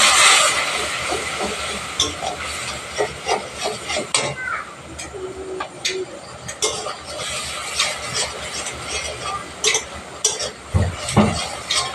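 Spices with chilli and turmeric sizzling and hissing in a pan with a splash of water while cooking ghugni, steady frying hiss with intermittent clinks and scrapes of stirring.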